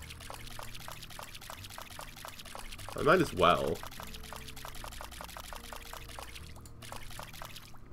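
Watering crops in a farming roguelike video game produces a steady, soft pouring trickle that runs continuously underneath a voice talking, with a brief louder spoken moment in the middle.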